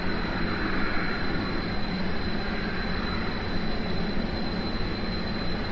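Airplane in flight in Kerbal Space Program, a steady broadband engine roar with a constant high tone, unbroken and even in loudness throughout.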